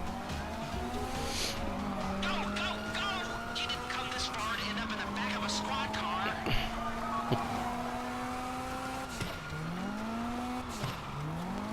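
A car in GTA Online starts up and speeds away, engine tone climbing and falling through gear shifts with tire squeal, loud and continuous with other game noise.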